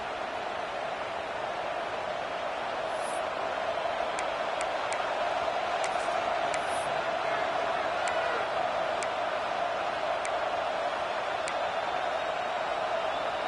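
Stadium crowd noise fills a college football video game, Baylor vs Kansas State, as a steady roaring wash of cheering at an even loudness throughout, with faint scattered ticks over it.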